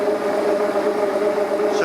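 Electric motor running a generator test rig, a steady mid-pitched hum with constant tonal whine held throughout at close range, no pauses or speed changes.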